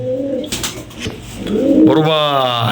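Pakistani Teddy and European Toy Lahori pigeons coo close by, a rolling, throaty burst rising near the end after a stretch of voice and background clatter.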